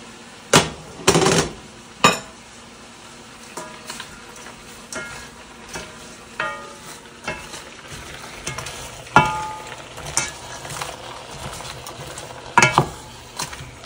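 Seafood soup stirred in a pot, a spoon knocking and scraping against the pot in irregular bursts, with quieter clinks and scrapes in between.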